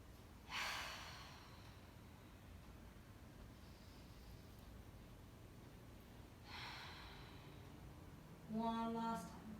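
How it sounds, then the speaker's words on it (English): During a hip-opening yoga class, slow deep breaths come quietly and close: a few soft, airy exhales spaced several seconds apart, with a brief sigh-like breath near the end. "take 3 big rounds of breath"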